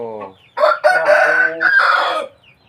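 A rooster crows loudly and close by, a long drawn-out cock-a-doodle-doo call that rises and holds before trailing off, with quieter clucking before it.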